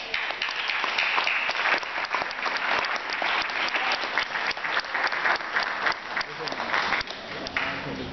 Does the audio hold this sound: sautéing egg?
no